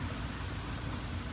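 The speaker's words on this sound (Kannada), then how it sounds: "ಹೆವಿ ಮಳೆ ಫ್ರೆಂಡ್ಸ್, ನೋಡಿ ಹೆಂಗ್ ಬರ್ತೈತೆ ಮಳೆ" Heavy rain drums steadily on a truck during a drive toward Mangalore, a dense, unbroken roar of water on the cab with deep low rumble, loud and continuous throughout with no voices.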